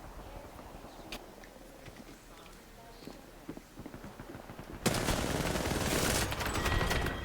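Automatic weapon fire in Apex Legends on Switch 2 arrives as a loud, sustained burst in the last couple of seconds, after quieter in-game ambience and scattered faint shots, with no talk.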